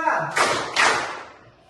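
Two sharp group claps from a classroom of students playing a rhythm clapping game, each burst ringing briefly, with a voice heard just before them.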